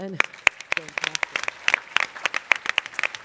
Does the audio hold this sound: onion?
no